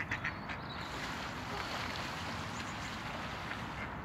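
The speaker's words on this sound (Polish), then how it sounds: "Przy okazji walka kaczek." Ducks fight, quacking and squabbling in short bursts over steady wind and water noise outdoors in a park.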